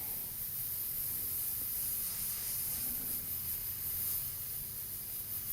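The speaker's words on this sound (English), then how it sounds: "I kind of make sure the airbrush is playing good, making nice." An airbrush sprays paint in a steady, close hiss that runs unbroken for several seconds, with a faint low rumble underneath and no voices.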